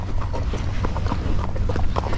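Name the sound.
quarter horse walking on trail, hooves clip-clopping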